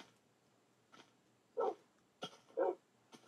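A dog in a video game, likely Minecraft, gives two short, soft barks amid faint clicks and small noises, fairly quiet and close.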